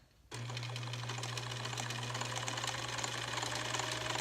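A sewing machine starts abruptly and stitches steadily at close range, a continuous motor hum under rapid needle clatter.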